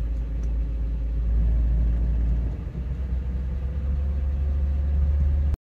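Holden VX SS Commodore with a 4L60E transmission running in drive while raised on stands, giving a steady, loud, low engine rumble that holds even throughout before cutting off abruptly.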